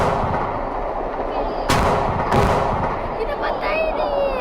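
Explosions at a military base with tanks in a video game: dense, roaring blast noise with two sharp booming bangs close together, and a voice faintly beneath it.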